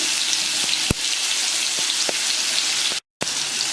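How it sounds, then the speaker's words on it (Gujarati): Spinach and garlic sautéing in oil over slow-to-medium heat, a dense steady sizzle close up, punctuated by a few sharp spatula taps against the pan and a momentary dropout. "તેલમાં થોડી વાર માટે આપણે પાલક અને લસણને સાંતળી લઈએ"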